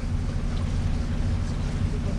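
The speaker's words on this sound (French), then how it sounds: "mon moteur qui respire un peu" A sailboat's engine runs steadily while passing through the Corinth Canal, a continuous low droning hum with wind noise, loud and close for the whole stretch.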